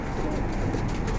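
Pigeons coo on a rooftop, soft low cooing under a steady broadband background hum.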